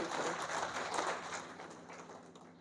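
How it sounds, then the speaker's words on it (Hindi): Applause from a seated audience in a marriage hall welcoming a guest, a soft rushing patter of many hands that gradually fades toward the end. "ये आप सब तालियों से इनका स्वागत करें।"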